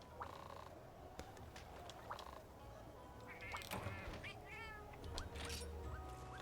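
A cat attendant character in a video game meows several times in short, rising calls over a steady bed of game ambience, loud and close, with no talking.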